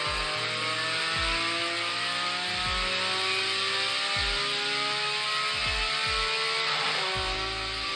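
An engine revs on a dyno, a steady droning hum with rising and falling tones and repeated low thumps, heard in the background at moderate level.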